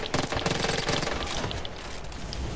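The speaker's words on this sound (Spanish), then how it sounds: "Pues me está metiendo unos tiros." Rapid bursts of gunfire from the video game Far Cry 5 in cooperative arcade mode, dense rattling volleys loudest early and continuing steadily with no talk.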